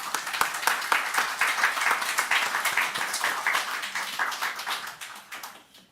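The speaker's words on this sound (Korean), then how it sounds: "나오실 때 큰 박수로 맞아주시기 바랍니다." A congregation at a church service claps steadily for several seconds, the applause thinning and fading out at the end.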